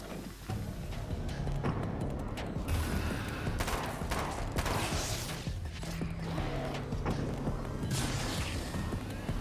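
Grenade explosions and gunfire in Alan Wake's American Nightmare, a busy stretch of repeated sharp shots and crashing blasts at moderate level, with scattered mechanical clatter between bursts.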